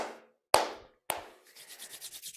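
Palms rub briskly together in a few sweeping strokes, then a quick rhythmic back-and-forth rubbing, close and clear with no talking.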